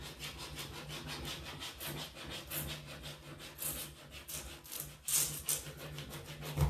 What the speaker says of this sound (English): And I'm going to start rubbing this on.